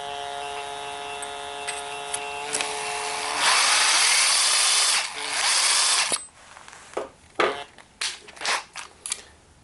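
Brass cases for 30-30 Winchester reloading are trimmed with a tool that whirs and grinds in several short bursts, followed by sharper scraping and clicking, close by and with no talking.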